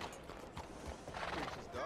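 Arabian horse in Red Dead Redemption 2 whinnying over steady clip-clop of hooves, a near, fairly loud game sound lasting under two seconds with a brighter neigh toward the end.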